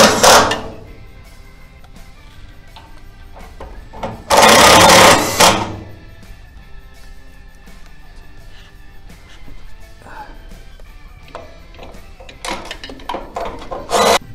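Self-tapping bolts are driven with a power tool to mount an oil skimmer on a ChipBLASTER unit: one loud, sustained whirring burst of about a second, then a few shorter bursts near the end, with quiet workshop handling noise in between.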